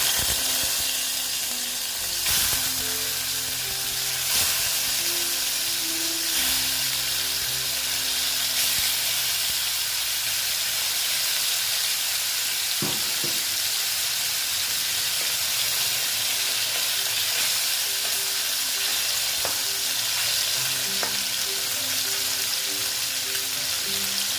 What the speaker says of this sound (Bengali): এবার মাছগুলো ভাজা হতে থাক আস্তে আস্তে